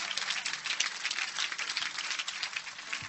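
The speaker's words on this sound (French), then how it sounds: "Donne-moi ta main, on acclame Jésus." A church congregation applauding, dense continuous clapping from many hands filling the space for several seconds, fairly close and steady.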